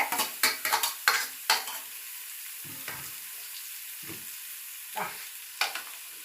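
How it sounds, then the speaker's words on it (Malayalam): Jackfruit and egg frying in oil while a spoon stirs the mix, sharp scraping strokes in a quick cluster at first, then sparser knocks and scrapes over a soft sizzle, close by. "ഞാനിനി അതെല്ലാം കൂടെ കൂട്ടി ഒന്ന് ഇളക്കുവാണ്."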